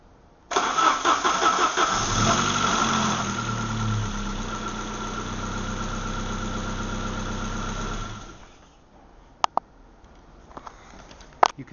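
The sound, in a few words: car ignition switched on, fuel pump running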